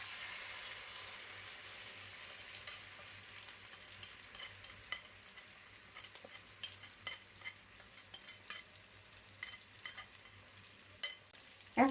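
Marinated chicken shashlik meat fries in a pan with a steady low sizzle, broken by repeated scrapes and clinks of a spoon stirring. The clatter grows louder toward the end, and no one speaks.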